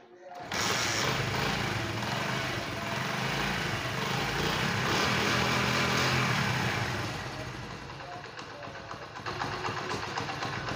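A Honda CD 70 motorcycle engine runs steadily with a buzzing, rattly mechanical drone, loud and continuous across the clip, easing slightly near the end.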